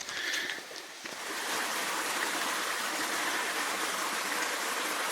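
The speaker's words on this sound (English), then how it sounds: "There's all sorts of running water around at this time of year in mid-October" Steady rushing of a stream beside a railway hiking trail in mid-October, a continuous broadband wash of running water, fairly close and uninterrupted, with a few faint knocks in the first second.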